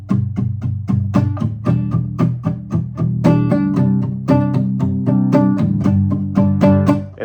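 Guitar chords strummed through a progression in rhythmic, evenly spaced strokes, with bright ringing chords mixed with shorter damped hits. Loud, close and played alone.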